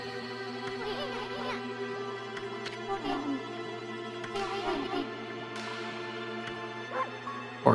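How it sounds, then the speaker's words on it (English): The wolf in the Okami video game gives soft, distant barks and yips over a steady musical background, with the calls scattered irregularly through the stretch. "Barks."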